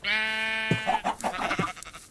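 A Minecraft sheep gives one loud, close, wavering bleat lasting under a second, followed by a softer series of choppy bleating sounds that trail off.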